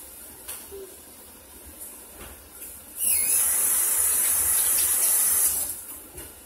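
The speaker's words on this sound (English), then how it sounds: "Oh, you hear that sizzle?" Soft background hiss, then a loud steady sizzling hiss of a turkey burger cooking rises abruptly for about three seconds before cutting off, close and continuous.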